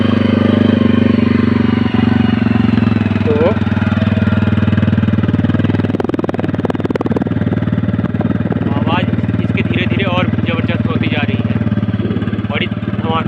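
TVS Ronin 225cc motorcycle engine and exhaust while riding, a loud continuous low thrum with steady rhythmic pulsing and a burst of revving midway, up close with wind rush.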